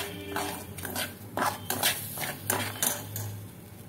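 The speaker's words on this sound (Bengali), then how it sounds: "তো এটা একটু ভেজে নিচ্ছি আমি সুজিটা" Semolina being fried with bay leaves in a pan, heard as repeated scraping and clinking of a utensil against the pan over a steady low sizzle, close and moderately loud, with no talking.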